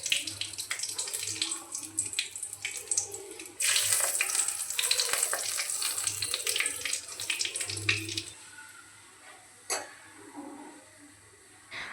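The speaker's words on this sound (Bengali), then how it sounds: "মাছ ভাজা হয়ে গেলে ওই তেলের মধ্যে দিয়ে দেব গোটা গরম মশলা," Whole garam masala, dried red chillies and cumin seeds hit hot oil left from frying katla fish, giving a loud crackling sizzle with stirring that gradually settles.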